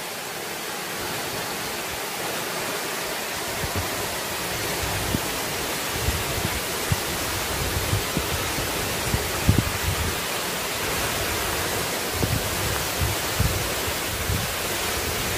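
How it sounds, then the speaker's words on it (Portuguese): The Itambé waterfall pours down in a loud, unbroken roar of rushing water, heard close and constant throughout with faint scattered knocks from nearby footsteps or movement. "Tá aí, cachoeira do Itambé."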